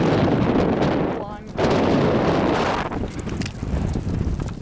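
Strong gusts of wind blow steadily into an outdoor microphone, roaring loud and rough for most of the stretch, with a brief lull before building again, and people may be speaking under it.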